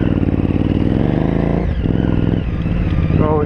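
KTM motorcycle on an off-road trail during roadbook race training, its engine droning loud and close throughout with steady throttle and a rising rev at the end.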